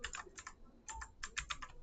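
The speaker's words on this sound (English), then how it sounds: "Sorry for my typing." Typing on a computer keyboard during a Cinema 4D modelling session, rapid clusters of crisp key clicks with short gaps, close and clear with no speech.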